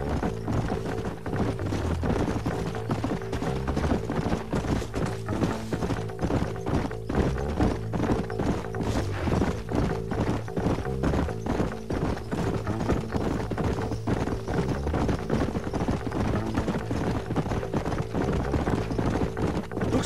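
Horses gallop in Red Dead Redemption, a steady rapid clip-clop of hooves running continuously and loudly throughout, layered over a droning background score.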